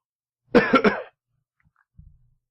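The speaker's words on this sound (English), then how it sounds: "Cough." A sharp, close cough bursts out in three quick spasms, followed by a faint, short throat sound a moment later.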